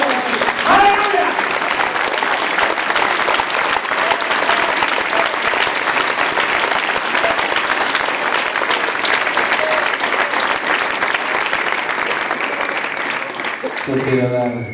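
A church congregation claps long and loud in a dense, sustained round of applause that lasts until a voice breaks in at the very end.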